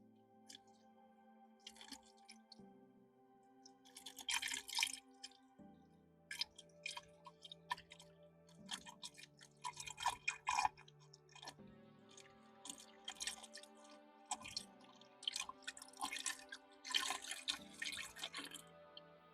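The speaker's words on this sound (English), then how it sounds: "here I am, trying to capture satisfying water sounds" Water trickles and drips steadily into a small paludarium at close range, with irregular splashy bursts over a faint constant tone.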